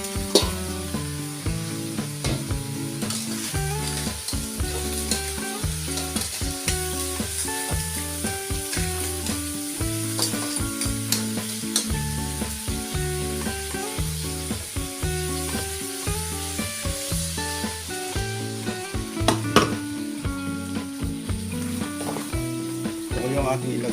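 Crab tinola sizzling in a pan while being stirred, with a continuous loud frying hiss and rhythmic scraping strokes of a utensil running steadily throughout.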